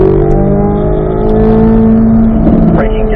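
A race car accelerates hard along a straight on a track, its loud engine note climbing steadily and close by, with a faint shift in pitch near the end.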